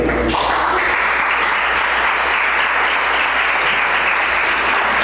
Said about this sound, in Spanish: Gracias por aplaudir.